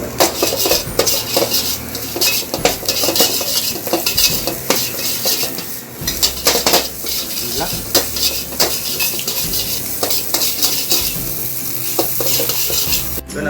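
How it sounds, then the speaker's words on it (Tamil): Wheat flour puttu sizzles loudly in a pan while a metal spoon stirs and scrapes it, with frequent close clinks against the pan over a steady frying hiss. "இப்போ புட்டை போடுவோம். ஒரு கப் புட்டு, கோதுமை மா புட்டு அப்படியே போட்டுருவோம்."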